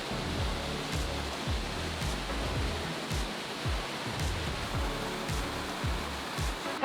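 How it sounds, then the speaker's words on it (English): A large waterfall roars steadily in an Alaskan forest, a dense, even rush of falling water that holds constant throughout with no voices over it. "Suddenly you will see the giant waterfalls."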